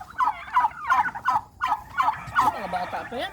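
Several farm turkeys gobbling in a large flock, a run of rattling gobbles repeating in quick succession, close and loud, with faint voices underneath.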